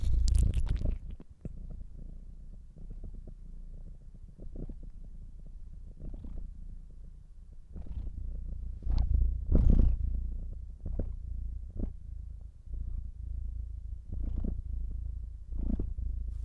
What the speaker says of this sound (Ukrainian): з якою я нарешті вам записав розслабляючий муркотіння АСМР